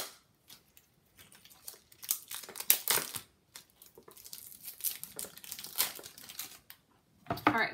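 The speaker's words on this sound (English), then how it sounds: "So let's go ahead and open this up. Of course, it's taped." Taped package of stationery being opened, with irregular bursts of crinkling, tearing and crumpling of tape and packaging, close and moderately loud with short pauses between.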